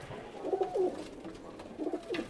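Pigeons coo in two short rhythmic bouts of soft throaty calls, close by, with a brief pause between them and quiet background noise.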